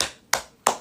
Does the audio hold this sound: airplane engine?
no